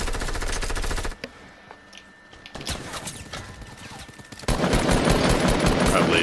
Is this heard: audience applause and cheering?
no